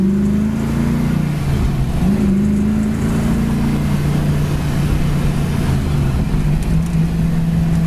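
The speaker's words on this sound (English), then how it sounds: "Motor sounds really good, and the transmission shifts good on this as well." A 1965 Ford Mustang convertible drives along with its engine running in a steady, loud drone, the pitch dropping and settling a few times as the automatic transmission shifts, with no voices.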